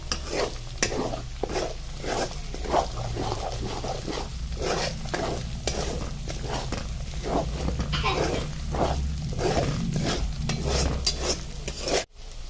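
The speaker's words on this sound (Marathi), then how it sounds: "दोन मिनिटाची चांगली परतून घ्यायची आहे तेलामध्ये" Green chillies sauté in hot oil with a spatula stirring rhythmically, each stroke a bright scrape over a dense, loud sizzle, near and continuous, with a low steady hum beneath.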